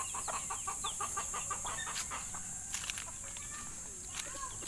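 Kelso hens cluck softly in a backyard, with scattered short clucks and chirps over a quiet background and faint rustling steps, fairly distant and low in level.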